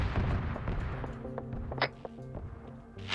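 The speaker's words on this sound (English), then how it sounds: "Marshall, I think, is just trying to annihilate this tower here to burn ammo on it." Gunfire from an Arma Zeus operation aimed at a tower during a NATO assault on Altis airfield: irregular shots and thuds over a steady low rumble, with a sharper crack near the middle and another at the end.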